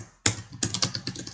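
Close, quiet typing on a computer keyboard, opening with one firm keystroke followed by a quick, uneven run of about seven light key clicks.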